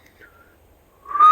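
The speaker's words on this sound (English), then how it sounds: "Emergency whistle." An emergency whistle is blown on a hike along the Florida Trail: a short, shrill, rising blast that comes in loud at the very end, after a faint thin tone earlier.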